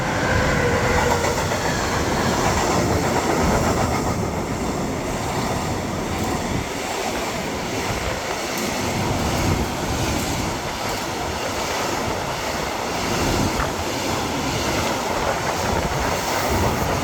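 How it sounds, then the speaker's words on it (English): A train rumbles past close by for a long stretch, with steady clattering wheels and a faint metallic squeal, no voices. "Train."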